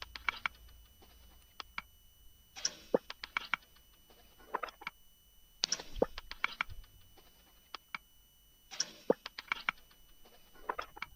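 A dark percussive loop from a sample kit, played dry with no effects: sparse clicky, rattling hits in repeating bursts with quiet gaps between them, at a moderate, even level.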